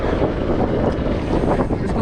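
Storm wind at sea off Zanzibar tears across a small boat as waves hit it. It makes a loud, constant roar that buffets the microphone, with surging gusts and no voices.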